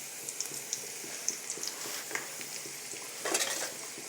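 Spoon stirring onions with turmeric in a frying pan, a soft steady sizzle with light scraping and scattered metallic clinks, fairly close with no talk.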